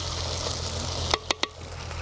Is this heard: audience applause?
no